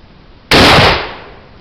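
A single sharp, loud pop from a cap-fired muzzleloader rifle, a sudden burst that trails off over about half a second with no talk.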